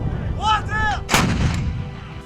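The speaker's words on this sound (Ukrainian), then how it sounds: "При моїй команді постріл." A heavy artillery gun fires once with a deep, booming blast, preceded by short whistling tones and followed by a rumbling echo fading away.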